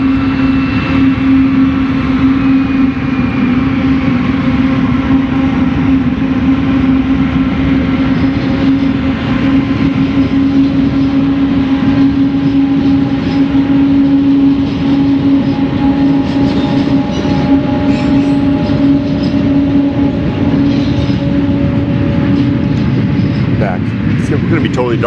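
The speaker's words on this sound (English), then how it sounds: "There goes the train." A train rumbles past nearby with a steady, loud drone and a sustained tonal hum that holds for about 25 seconds, swelling slightly toward the end.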